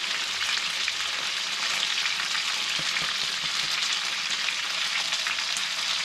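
Spices are ground in a small hand mill, a steady close-up crunching rasp with faint gritty crackles that runs unbroken for several seconds.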